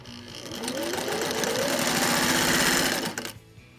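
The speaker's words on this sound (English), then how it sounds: "So, the zigzag stitch that we just set our machine to do." A Singer 600E sewing machine runs a zigzag stitch in a close, steady mechanical whir with rapid needle clatter for about three seconds before stopping abruptly, with no talk.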